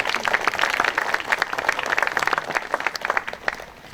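An audience at a May 18 memorial ceremony claps as a dignitary is introduced, a lively, fairly loud burst of many hands with rapid, uneven claps that thins slightly toward the end.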